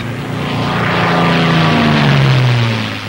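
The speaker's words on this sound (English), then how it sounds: "The plane feels normal now that it's off the ground." A P-51 airplane's propeller engine drones loud and steady in flight, a close, continuous roar with a slowly shifting pitch.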